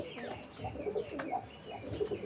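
Pigeons coo softly in a repeated, rolling rhythm, several calls overlapping close by.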